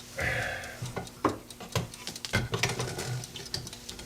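A Sorby slicer cores a hard-wood bowl on a spinning lathe, giving close, uneven bursts of scraping and chattering cuts that come and go over a steady mechanical hum.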